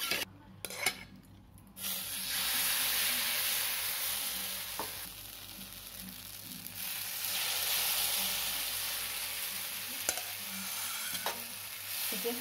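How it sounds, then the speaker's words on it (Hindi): Ghee sizzling on a hot tawa griddle while sweet breakfast puris are being made, a steady broadband frying hiss lasting throughout with a few faint clinks of a spoon, no talking. "तवा गर्म हो गया है, इसमें डालते हैं एक चम्मच घी।"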